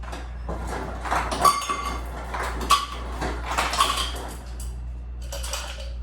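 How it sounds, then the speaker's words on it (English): Ice cubes clatter and rattle into a cocktail shaker for a melon cocktail, a series of sharp, close clinks and knocks in uneven bursts, with no talking. "I'm just going to fill this with some ice."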